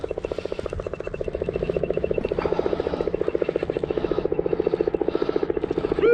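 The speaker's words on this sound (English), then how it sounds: "look at that helicopter coming back" A helicopter flying low over a Roman-era farm field, its rotor thumping in a fast, even pulse that stays loud and close throughout.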